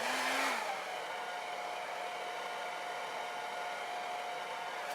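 A hair dryer blows steadily and close, setting sprayed hair in an updo; an even, airy hiss with a brief rising whine at the start, no talking.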